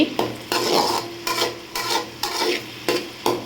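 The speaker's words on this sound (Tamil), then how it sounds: "வெங்காயத்தை சேர்த்து நல்லா வதக்கிக்கோங்க" Onions sauté in a pan for egg Maggi noodles, a steady sizzle broken by regular scraping strokes of a spoon roughly every half second, close up and without talk.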